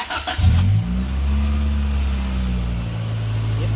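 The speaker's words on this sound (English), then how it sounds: "This is a cold engine at the moment." A cold Toyota AE92 or AE85/6 engine turns over, then settles into a steady idle with a brief rev, close by and continuous.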